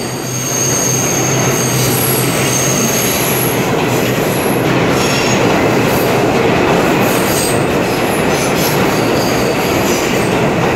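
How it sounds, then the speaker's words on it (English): A New York City 5 subway train roars through 14 Street–Union Square station loudly and steadily, with high metallic wheel squeal and rattling rails filling the whole stretch. "Here goes a 5 train."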